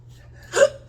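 A girl's single hiccup, a short, sharp vocal catch with a breathy burst, heard alone and close.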